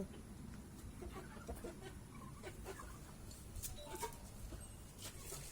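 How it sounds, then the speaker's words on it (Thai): Faint clucking and scattered short calls from chickens mixed into a constant low outdoor background noise. "เสียงไก่"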